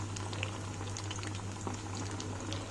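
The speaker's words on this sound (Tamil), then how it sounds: "நல்லா கோல்டன் ப்ரௌன் ஆகிற வரைக்கும் நம்ம இதை ஃப்ரை பண்ணணும்." Mutton chops frying in hot oil give a steady, close bubbling sizzle with a low hum underneath, running evenly throughout with no voices.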